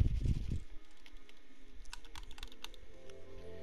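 A computer keyboard is used with a PS4, a quick cluster of light key clicks following a short thump at the start, close and fairly quiet.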